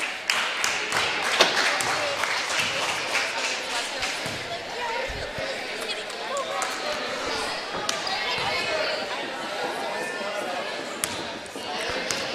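Ball bouncing during a high school girls' basketball game in a gym, Brocton against Pine Valley: quick dribble thumps and sneaker squeaks over crowd noise, while an announcer talks throughout.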